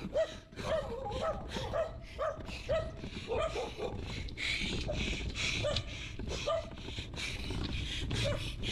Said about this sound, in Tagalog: Habol tayo ng mga aso.